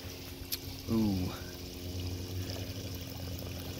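Dirty brown water pours from a carpet cleaner's recovery tank after cleaning cat urine from carpet, a short gush and splash that settles into a steady trickle under low background hum.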